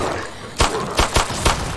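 Explosions in the Roblox zombie survival game Those Who Remain: four sharp, loud bursts in quick irregular succession, each a broadband crack over a steady background hum.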